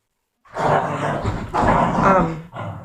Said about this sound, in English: Those are my dogs fighting in the background.